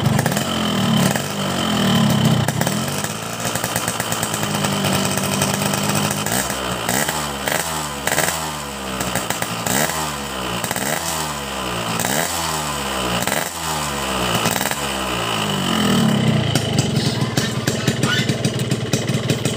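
Two-stroke Kawasaki Ninja motorcycle engine running on synthetic racing oil, idling and then revved repeatedly in a rhythmic series of sharp blips, loud and close throughout with no talking.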